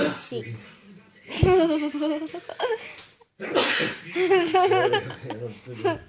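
A man singing a soft lullaby about a sleepy teddy breaks off with a single sharp sneeze early on, then keeps singing. His voice continues steadily before and after.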